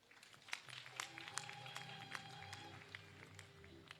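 Audience applause for a chief guest at a formal ceremony, a steady wash of scattered claps with a few louder sharp hits, moderately distant and sustained throughout.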